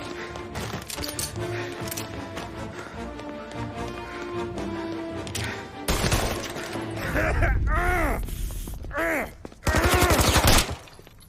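Gunfire in Mafia Definitive Edition: sharp bursts of shots crack out near and loud among other game sounds, with voices heard in the scene.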